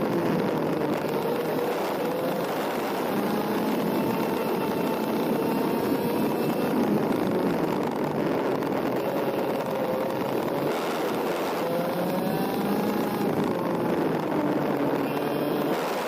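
IAME Heavy class racing karts run on the GoPro Motorplex track during a final. Several engines whine and buzz at once from a distance, with rising and falling pitches blending into a constant drone.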